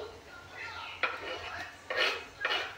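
Garlic being mixed in a pan for pasta, with a few metallic scrapes and clinks of a utensil against the pan over low background hiss, close and moderately quiet.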